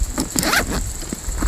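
A zipper opens on the main compartment of a 5.11 Rush 12 tactical backpack, a close, loud ratcheting pull lasting about a second, alone without talk.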